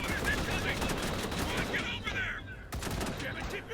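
Rapid bursts of gunfire crackle continuously in the game War Alert WWII, dense and loud, like automatic weapons firing in quick succession with a few sharper cracks.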